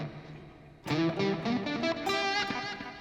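An electric guitar played through a Line 6 POD Express strums a chord after a quiet start, then keeps ringing with notes that smear into a spacious reverb wash, loud and sustained.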